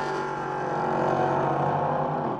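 Race cars lap the wet Spa circuit in a 2018 race, engines droning in a steady, sustained roar with rising pitch as they pass, heard at a moderate distance.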